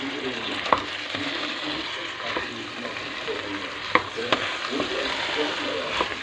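A spoon stirs bulgur pilaf in a sizzling pot, with a steady frying hiss broken by sharp scrapes and knocks against the pot at irregular intervals.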